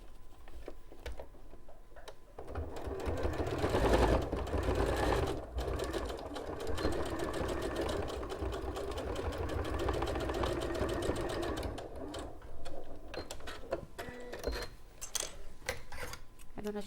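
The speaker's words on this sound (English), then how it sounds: "So after you've sewn all your gussets together." Sewing machine stitches fabric gussets together in a long close run, a rapid mechanical chatter that starts after a few quiet seconds and later breaks into short bursts and clicks.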